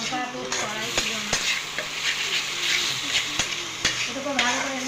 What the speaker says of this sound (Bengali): এটাকে ভালো করে নাড়াচাড়া করে নিয়ে মশলার মধ্যে যখন তেল ছাড়বে